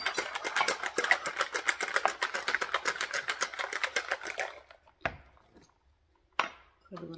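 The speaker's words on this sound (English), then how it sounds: "Right into the shaker. Then I'm gonna shake it up." Ice rattles rapidly in a cocktail shaker holding fresh lime juice for a grapefruit Paloma, a fast rhythmic clatter lasting about four seconds, then a few separate knocks and clinks.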